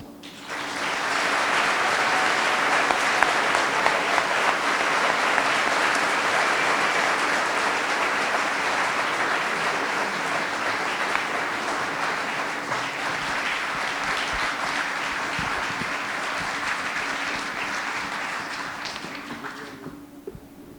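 Sustained applause from an audience at an awards ceremony and reception, dense and even claps swelling in quickly and holding for about twenty seconds before ending abruptly, filling the hall at moderate distance.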